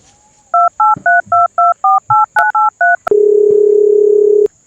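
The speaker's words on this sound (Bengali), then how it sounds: "ওকে একটা ফোন দেই" A rapid run of about eleven short, evenly spaced keypad tones, followed by a long steady ringing tone, close and loud with no talking.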